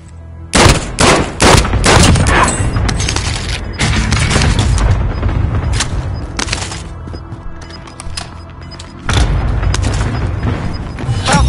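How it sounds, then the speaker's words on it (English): Rapid bursts of gunfire and heavy explosions from a PS4 shooter game, loud and dense, with repeated sharp cracks early on, then sustained booming fire through the middle and a fresh heavy volley near the end. "I'm taking fire here"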